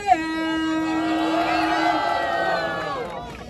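Crowd at a Halloween rap battle semifinal cheering and shouting, a loud sustained roar of voices with whoops rising and holding for a few seconds before fading.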